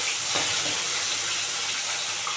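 A rohu fish head fries in hot oil in a pan, giving a constant close crackling sizzle with no pauses and no talking over it.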